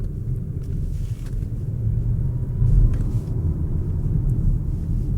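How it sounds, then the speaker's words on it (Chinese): A 2023 Volvo C40 electric car accelerating gently, heard from inside as a steady low rumble with a soft, even hum. The level rises slightly midway and holds, with no voices. "当你稍微点你的 Power Pedal 的时候呢，你会觉得好像是宇宙飞船正要起航了的声音。"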